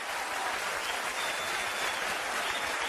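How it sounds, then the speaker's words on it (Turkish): Studio audience on a television talk show breaks into loud, continuous applause, a dense wash of clapping that holds steady throughout with no speech over it. "Ayşe Hanım bir alkış alalım önce Ayşe Hanım'a."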